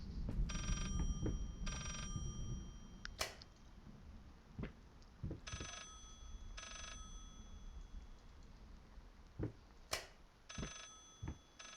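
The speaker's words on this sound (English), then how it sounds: "And here I was thinking that the phone ring actually ended." An old-fashioned telephone rings in the horror game Layers of Fear, sounding in short repeated bursts with gaps between them over a dim ambient background, punctuated by a few sharp clicks and knocks.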